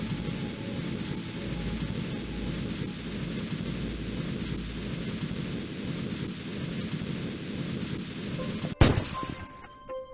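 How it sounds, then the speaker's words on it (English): Rumbling, crackling explosion noise from rockets blowing up in Kerbal Space Program, a continuous loud roar lasting most of the clip, then a sharp bang near the end that quickly fades into quieter debris sounds. "this is the first time we are going to see some nice explosions"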